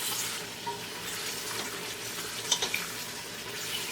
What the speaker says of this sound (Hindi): दोबारा से फिर इसे अच्छी तरह से गोश्त को भुनेंगे